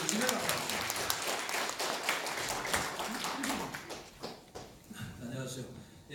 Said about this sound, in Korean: 뜨거운 박수로 맞아주시면 감사합니다.